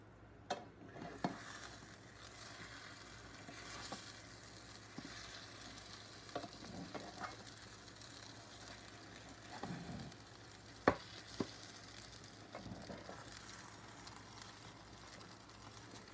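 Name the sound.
French toast cinnamon rolls sizzling while cooking in a pan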